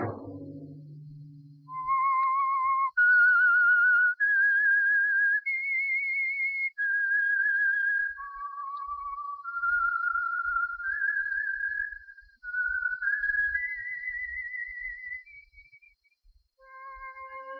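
A lone whistled melody sounds as the theme signal of the 1947 radio program The Whistler, a slow, clear, eerie tune of held notes carrying on for many seconds, close and steady, with no talk over it.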